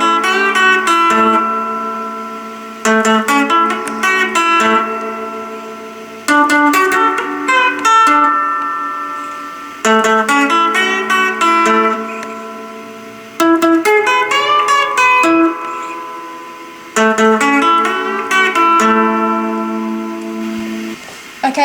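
The complete guitar part of a song, played as a repeating riff in six bursts of bright, chiming chords and notes, each sustaining briefly before the next, close and clear with no talking.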